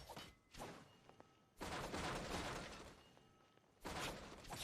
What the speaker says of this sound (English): Can't you destroy the boxes a little more quietly?